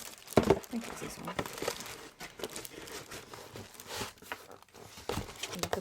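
Black tissue paper crinkles and rustles in bursts from unpacking a shoe order, close and fairly quiet, with a sharper crackle near the start.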